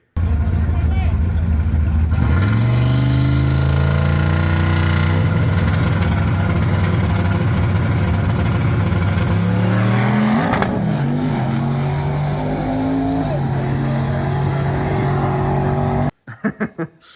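A drag race car launches hard, its engine roaring loud and steady as the pitch climbs, then a sharp crack about ten seconds in as the axle breaks and the engine note falls away before an abrupt stop.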